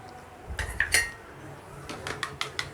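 An egg is beaten in a bowl, heard as a few brisk metallic clinks and taps of a utensil against the bowl, close and fairly crisp, with short pauses between strokes.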